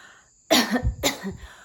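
Two quick, close coughs, one right after the other, with a brief raspy tail and quiet before them.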